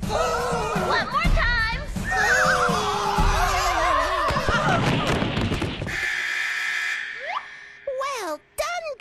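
A horse whinnies amid a busy mix of voices and noise, followed by a few shorter high squealing calls near the end.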